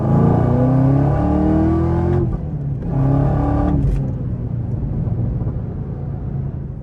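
A 2024 Chevrolet Camaro ZL1 engine revs hard and climbs in pitch, drops briefly, then revs up again before settling into a loud, rumbling idle.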